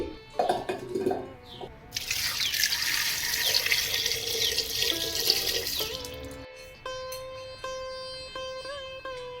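Tap water pours in a steady stream while new potatoes are washed, then stops, leaving drips and small splashes.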